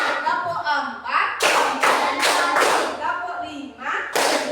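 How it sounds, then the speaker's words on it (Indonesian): Children in a classroom clap in counted bursts, several sharp loud rounds of hand claps separated by short pauses, with an adult voice speaking between them. "Tepuk 1, tepuk 2, tepuk 3, tepuk 4,"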